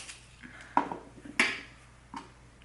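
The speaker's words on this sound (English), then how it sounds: "you're going to use the melon baller to scoop the insides out" Metal melon baller scraping and scooping the core out of apple halves for a tarte tatin, a few short scrapes and soft clicks close by with quiet gaps between, no talking.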